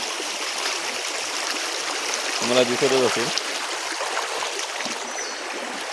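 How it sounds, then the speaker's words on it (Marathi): Steady broadband rush of clear, clean flowing stream water in a village runs throughout, with a voice speaking briefly in the middle over it. "हे बघा पाणी कसं वाहतं एकदम शुद्ध पाणी आहे"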